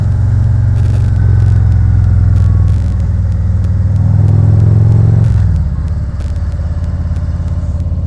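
A 2019 Harley-Davidson Ultra Limited motorcycle, ridden at low RPM and then given a handful of throttle, its deep loud engine rumble swelling and pulling up before settling back into a steady drone, with wind noise over it.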